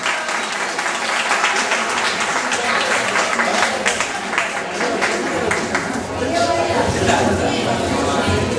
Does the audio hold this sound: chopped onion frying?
no